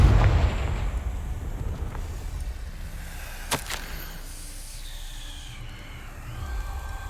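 The Confringo blasting spell is cast in Hogwarts Legacy: one sharp, loud burst cracks out over low rumbling game ambience, followed by a fading whoosh.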